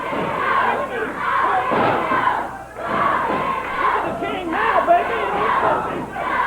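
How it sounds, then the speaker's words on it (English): A live crowd at a Memphis professional wrestling match chants in loud rhythmic waves, the massed voices rising and falling in repeated phrases with the clamour of an arena around them. "Crowd chanting, "Go, King, go.""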